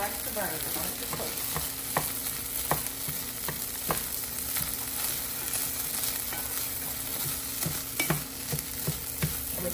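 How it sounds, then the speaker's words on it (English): Rice toasting in a pan under constant stirring, a dense continuous sizzle with a steady rhythm of spoon scrapes and taps, close and loud, with no talk. "Keep stirring. You don't want your rice to burn."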